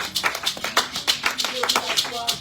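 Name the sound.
congregation applauding for the Lord in church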